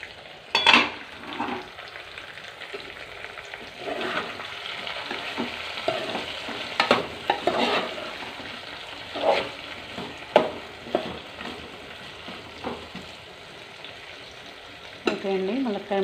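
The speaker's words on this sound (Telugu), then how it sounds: "ములక్కాయ ముక్కలు కొంచెం మగ్గిపోయాయి" Drumstick pieces sizzle and fry in a pan for a curry, under a soft constant crackle, while a spoon scrapes and clinks at an uneven pace as it stirs, close up and with no talk.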